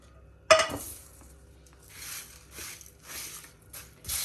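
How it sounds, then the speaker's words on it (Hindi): Ground garam masala spices tipped from a pan into a large pot in a home kitchen, opening with a sharp metallic clank of utensil on pot, then a series of soft hissing scrapes and pours at a steady rhythm, close and moderately loud. "अब इसे हम बड़े बर्तन में डालते हैं। अब इसे खुले बर्तन में डाल के ठंडा कर लेते हैं।"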